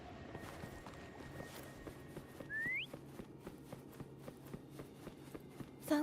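A single short rising whistle from a character in the video game Wuthering Waves, heard faintly over steady running footsteps, with a brief louder tone near the end.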